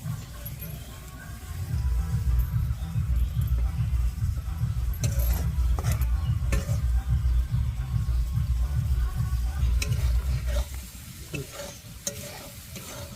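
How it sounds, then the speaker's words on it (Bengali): Spices frying in hot oil for a spicy Bengali puti fish curry with chilli leaves, stirred steadily in a pan: a loud, continuous sizzle with scraping stir strokes that ease off near the end. "আমাদের মশলা ভাজা হয়ে গেছে,"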